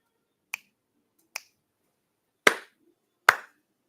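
Four sharp, isolated hand claps and finger snaps in a slow, uneven sequence, two lighter snaps followed by two louder claps, close and dry with silence between them, made to signal a number in an online numeracy training session.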